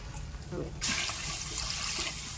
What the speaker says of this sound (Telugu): ఇలా 4 గ్లాసులు వాటర్ పోసుకో